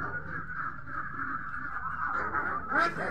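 Ducks quack and honk in a low, continuous chorus during a village duck distribution for food security aid, fairly faint with a louder call near the end.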